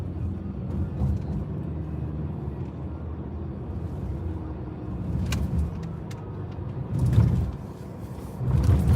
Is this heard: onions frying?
no